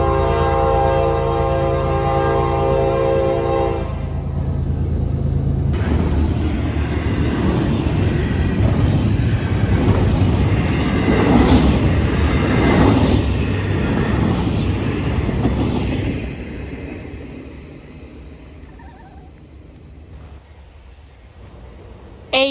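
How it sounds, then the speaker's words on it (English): An eastbound intermodal train led by an ES44AC locomotive rumbles past close by, its K5 air horn sounding a chord of sustained blasts at the start; the rolling rail noise stays loud and steady, then fades as the train recedes. "A eastbound intermodal would be approaching with a ES44 AC, but with a very nice K5OA"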